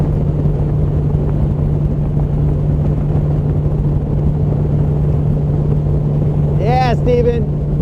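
A boat cruises fast across Lake Guntersville, its engine and hull rushing in a loud, steady drone, with a brief chirping sound near the end.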